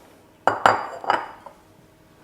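Vegan potato salad spooned into bowls, a few sharp clinks and knocks of a utensil against a dish, close and isolated, in a quiet room.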